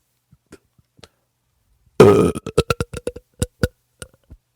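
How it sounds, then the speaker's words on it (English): A loud, gurgling belch bursts out, followed by a rapid series of short wet clicks and pops that trail off into scattered faint ticks. "wet belch of the week"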